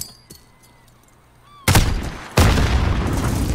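Gunfire in a shooter video game bursts out suddenly after quiet electronic beeps, two loud blasts in quick succession followed by sustained rapid firing, close and harsh.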